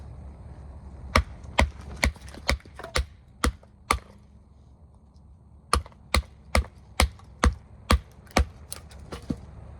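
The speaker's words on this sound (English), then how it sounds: "of course we do a little bit of cross grain batoning here." A Very Good Knife Co Rogue knife in AEB-L steel batoned across wood grain: a series of sharp, hollow wooden knocks in two bursts, evenly paced at about two per second, close and loud against a quiet background.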